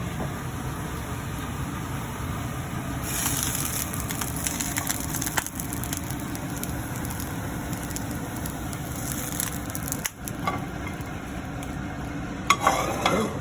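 An egg fries in a hot pan, giving a continuous crackling sizzle with a few scraping and tapping noises from a utensil, steady and close throughout.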